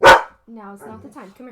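One loud, sharp bark from a female dog right at the start, followed by a person speaking calmly to her.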